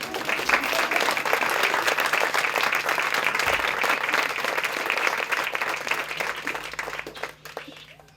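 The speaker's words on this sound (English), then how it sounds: "You can clap, it's okay." Audience applause at a Boys and Girls Club birthday event welcoming special guests, steady dense clapping from a sizeable crowd sustained for several seconds before tapering off at the end.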